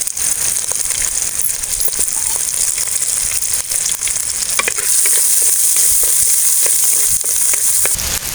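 Green chili, garlic and shallots sauté in hot oil with fenugreek, a steady loud sizzle running throughout, with occasional scraping stirs and light metallic clicks of a spoon against the pan.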